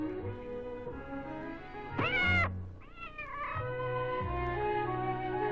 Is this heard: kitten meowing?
yes